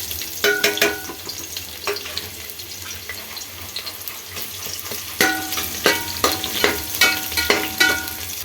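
Chopped onion and one or two bay leaves fry in a pan with a steady crackling sizzle. A spoon scrapes and clinks against the pan in repeated bursts of stirring, close and loud, with no talk.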